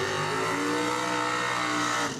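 At Cordova Dragway, a Dodge Avenger and a rear-engine dragster launch down the drag strip with a sustained, loud, roaring engine blast that holds steady and then tails off slightly at the end.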